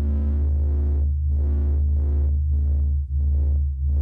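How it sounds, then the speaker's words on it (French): Sonified oscillations of the sun's field, sped up so they become audible: a steady droning hum with slow throbbing swells about every half second, continuous and alone with no voices. "Voici le son du champ solaire."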